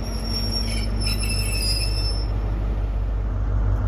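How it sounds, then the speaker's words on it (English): A Great Western Railway train from Penzance to Cardiff Central arrives at St Austell, its wheels squealing high and shrill over a continuous low rumble of the rolling stock, close and loud. "Arriving in now is the 1746 Great Western Railway service from Penzance to Cardiff Central."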